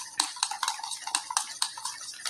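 Dhokla batter is stirred by hand in a bowl, producing a quick, steady rhythm of close scraping and light clinking strokes with no voices.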